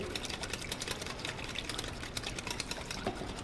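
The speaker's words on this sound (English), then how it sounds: "You can see I pour it in slowly while I'm whisking vigorously." Rapid, steady clicking and scraping of a whisk vigorously beating salad dressing in a bowl, a busy rhythmic rattle heard close up with no talking.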